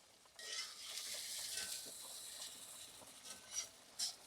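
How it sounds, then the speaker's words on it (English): Vegetables sauté in a pan for gravy, a soft hiss of sizzling with light stirring and a few utensil clinks toward the end, fairly quiet and with no talk. "we're going to saute these"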